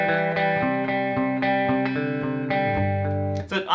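A Gibson 335 electric guitar played clean without effects, sustained notes and chords ringing out clearly and fairly loud, changing pitch before a final strum fades.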